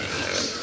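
Farm pigs grunting at close range, a brief, rough and steady burst of snuffling grunts with no pauses.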